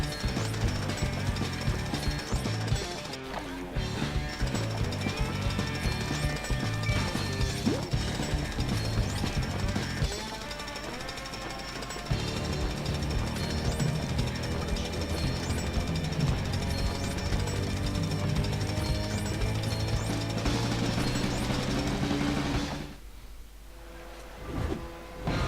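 Drill in the Lego City Undercover video game: a loud, sustained mechanical rattle that hammers on for most of the stretch, mixed with game music, then cuts out near the end.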